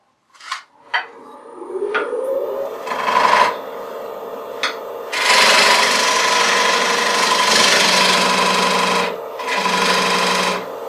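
Lathe tool cutting a tenon on a small walnut bowl, a rasping scrape that starts in short bursts, then settles into a steady, fairly loud cut with brief pauses.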